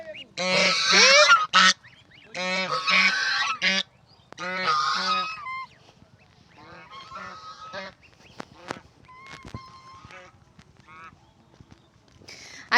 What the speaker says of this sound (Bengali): এই যে কি সুন্দর দেখেন রাজহাঁস, ঠোকরাবে নাকি?